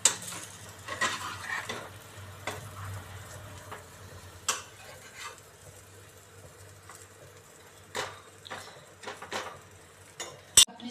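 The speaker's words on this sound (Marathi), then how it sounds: "आता ही सँडविच दोन्ही साईडने खरपूस अशी भाजून घेऊ." A potato sandwich toasts on a pan, giving a soft, steady sizzle with occasional scrapes and taps of a utensil against the pan, close and with no voices.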